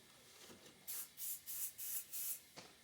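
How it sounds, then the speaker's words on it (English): A handheld spray bottle gives five quick, even bursts of fine mist, each a short close hiss in steady rhythm, with a softer single spray near the end and no talking. "I'll give it a couple sprays."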